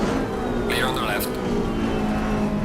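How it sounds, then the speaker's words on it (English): Race car engines in Assetto Corsa Competizione drone steadily throughout, a constant mechanical hum with a spotter-style voice talking over it. "I'm hearing their engine sounds more than I am my own"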